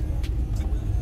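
Steady low engine rumble and road noise from inside a moving car, continuous and fairly loud, with a couple of brief higher hissing bursts and no talk.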